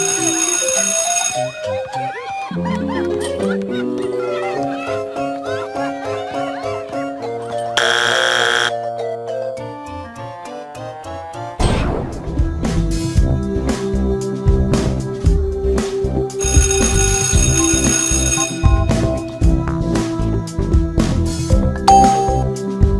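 A ringing bell chimes repeatedly over a busy background of music, sounding bright and fairly loud, with no speech.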